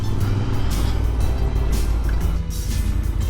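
Loud, steady Royal Enfield Interceptor 650 motorcycle engine rumble with a deep, throaty retro scrambler exhaust note running continuously throughout, close by, with no talking.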